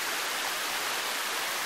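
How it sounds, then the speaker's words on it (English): Steady, loud rush of a waterfall on the Mossy Cascade trail toward Hopkins Mountain, a continuous broadband roar heard up close with no voices. "You can see the water rushing."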